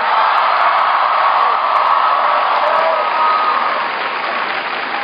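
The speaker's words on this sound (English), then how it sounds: "Can everybody please give a big round of applause for Shannon for the great introduction?" An audience gives loud, continuous applause at a political rally with President Obama in Athens, Ohio. Scattered whoops and cheers rise from the dense crowd throughout.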